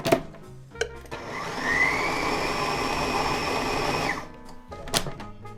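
A food processor blitzes Thai fish cake mixture in one sustained whirring run of about three seconds, close and loud, framed by clicks of the machine starting and stopping.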